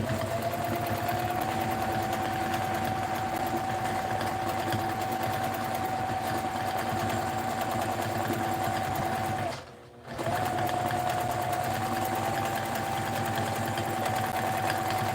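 A low shank sewing machine quilting with rulers, its motor and needle running in a steady close-up whir that stops abruptly for about half a second and then resumes at the same even pace.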